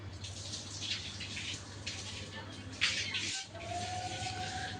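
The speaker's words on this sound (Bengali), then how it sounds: "দুধ গঙ্গা জল দিয়ে স্নান করিয়ে দিলাম।" Milk and Ganges water poured over a Shiva idol during a ritual bath for the Nil Shashthi vrat, a continuous splashing, trickling flow close by, with a steady low hum underneath.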